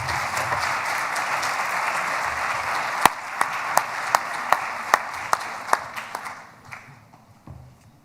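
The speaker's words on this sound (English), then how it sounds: "Please give him a round of applause." Audience applause for the Executive Vice Chancellor of CUNY at an IT conference keynote, a steady wash of clapping that thins out into a few sharp, evenly spaced single claps before fading away.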